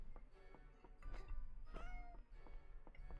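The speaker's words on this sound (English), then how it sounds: "Cat." A cat meowing in the video game Goblin Cleanup, a few short faint meows over a low background hum with light noise, no talk.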